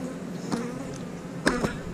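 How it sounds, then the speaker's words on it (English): Bees buzz faintly in and around a beehive in a bee yard. A soft, steady insect hum is broken by a couple of brief, louder buzzing passes close by. "there's plenty of bees in here"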